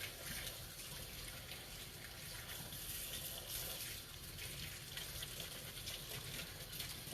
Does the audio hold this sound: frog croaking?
no